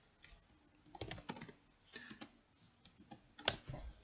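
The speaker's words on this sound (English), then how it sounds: "So if you type print," Typing on a computer keyboard while entering Python code, with quiet, close, irregular bursts of key clicks and a few sharper single taps, separated by short pauses and with no talk.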